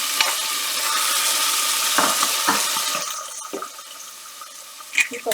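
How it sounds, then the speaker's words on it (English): Chopped onion tipped into hot oil in a pan, a loud broad sizzle that gradually settles, with a few clinks and stirring knocks near the end. "And add my onion."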